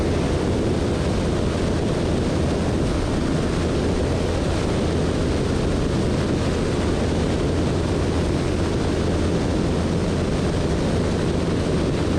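Seaplane taxiing on a lake, a steady broadband engine and prop drone mixed with water rush and wind, continuous and fairly loud throughout with no talk.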